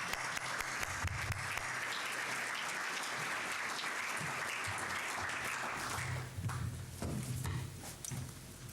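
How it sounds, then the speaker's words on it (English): Applause from an audience welcoming a speaker at a talk on deaneries and social justice, moderately distant and steady, thinning out toward the end with a few scattered claps. "please do a round of applause as we welcome you."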